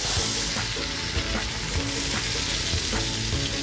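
Eggplant omelette frying in a generous amount of oil in a pan, a dense, continuous close-up sizzle and crackle with faint spattering pops throughout.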